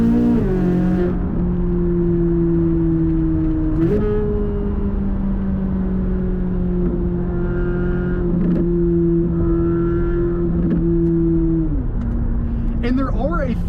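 A Chevrolet Corvette C8 Z06, a mid-engine supercar, pulls hard under acceleration with a loud, sustained engine note that rises through gear changes, heard from inside the cabin with brief exclamations from a voice.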